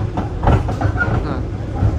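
Economy-class carriage of the long-distance Majapahit train rattling and clunking over the tracks, loud and close, with uneven jolting thuds and clatter in quick succession.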